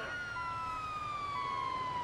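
A police siren in GTA V on Xbox 360 wails steadily with a slowly falling pitch, loud and continuous over a low background hum.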